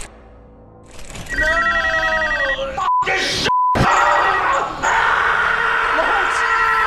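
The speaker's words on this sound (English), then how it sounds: "He goes ballistic when the phone rings again" A telephone rings insistently in a tense horror film scene, its shrill repeated tone cutting through strained groans and vocal noises, then falling away into a tense, noisy aftermath.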